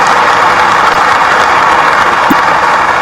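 An audience applauds at a police promotion ceremony in Bhopal: loud, steady, sustained clapping from a large crowd, with no break across the moment.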